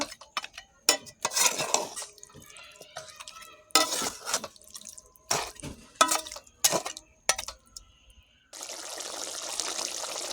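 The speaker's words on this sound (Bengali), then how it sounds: "সম্পূর্ণ মাংস দেওয়া হয়ে গেছে, এখন ভালো করে আমি নেড়ে দেব।" Mutton stirred in a cooking pot, with scraping, clinking metal-on-pot strokes and wet splashy sounds in irregular bursts, close by, ending in a steady sizzling hiss.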